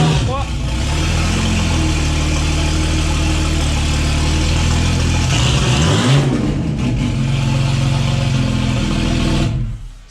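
A Citroën Traction fitted with a V12 bi-turbo engine runs loud and close, a rough, throbbing idle rising into a brief rev before the noise drops away near the end.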